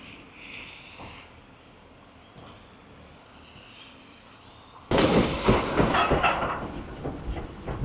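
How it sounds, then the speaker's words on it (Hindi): A locomotive idles with a low rumble and hiss, then a loud burst of steam-like rushing and clanking as the engine moves off nearby. "ये इंजन वापस जा रहा है, अब दूसरी तरफ लगने।"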